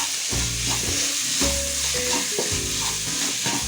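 Gobi manchurian tossed with pepper and coriander in a hot pan, giving a loud, continuous sizzle under repeated stirring scrapes, close up and without talk.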